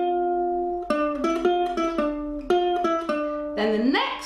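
Ukulele picking the opening melody notes of a song, a clear sequence of single plucked notes in short groups, close and alone, ending on a brighter strummed phrase.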